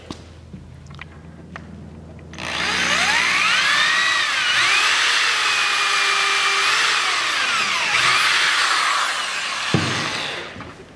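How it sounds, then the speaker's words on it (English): Power drill boring pilot holes into the corners of wooden boards for a LARP dungeon build: a loud, steady whine that rises and holds for about eight seconds after faint handling clicks, then cuts off. "what we do is we tap our corner pieces with a drill bit"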